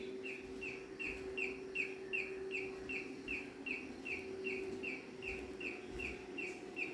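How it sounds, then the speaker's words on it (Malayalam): A bird-chirp electronic doorbell repeats a soft chirp steadily, evenly spaced tweets over a low steady hum, fairly faint and without any talking. "ഇവിടെ ഇവിടെ ഒരു ബേഡ് ബെല്ലുണ്ട്"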